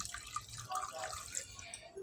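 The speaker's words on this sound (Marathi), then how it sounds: "एक ग्लास इथं मी पाणी घालत आहे" Water splashes and trickles briefly into a cooking pot, a close, uneven pouring sound lasting a couple of seconds.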